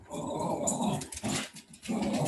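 Several dogs growl and snarl close by, a rough, rumbling vocal scuffle in uneven bursts with brief gaps between them, and no talking.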